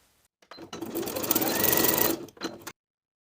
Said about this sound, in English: I'm going to sew a couple more security stitches at the center back, stitching right on top of the main seam line